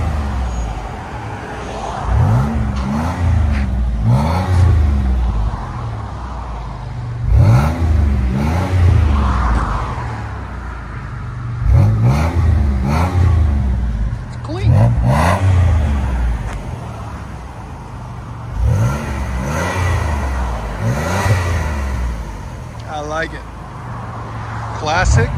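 An older car with a V6 engine revs its exhaust repeatedly, each rise in pitch swelling to a loud throaty roar and then falling back, with voices talking throughout.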